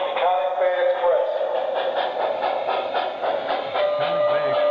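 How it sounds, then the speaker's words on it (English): A model train on a Christmas layout runs steadily with a whirring motor and rhythmic rail clicks, while a recorded station announcement plays over it. "Now arriving from New York on track 2, train number 212, Iconic Bay Express."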